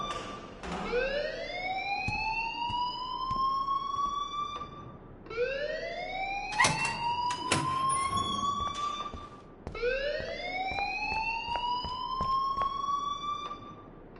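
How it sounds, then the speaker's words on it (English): In the Life is Strange video game, an alarm wails in three rising siren sweeps, each climbing and then holding steady, loud and continuous with a few sharp clicks between them. "please turn off that alarm since that's your job"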